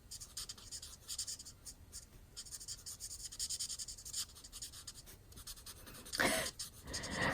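A marker scratches steadily across a card while coloring with Light Smoky Slate, soft close strokes in quick irregular bursts at low volume.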